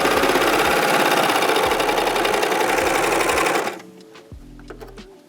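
A serger stitching textured fabric runs fast and steady with a rapid mechanical chatter, then stops abruptly, leaving a few faint clicks and soft handling sounds.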